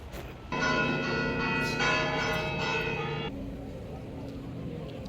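Church bells peal at the Porto cathedral, a loud cluster of overlapping strikes with rich ringing tones that swell for a few seconds over faint street noise, then cut back to background traffic.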